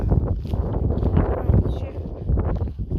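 Gusty wind buffeting a mobile phone microphone outdoors on an evening dog walk, a loud rumbling low roar that keeps surging and dropping throughout.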